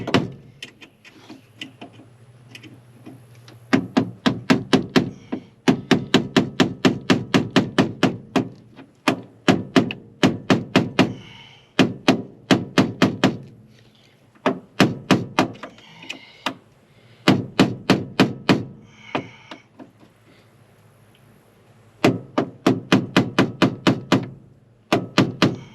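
Ball peen hammer tapping with a screwdriver on a part of a Ford F350 truck, in rapid close metallic bursts of many quick knocks separated by short pauses.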